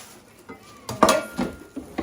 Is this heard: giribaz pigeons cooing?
no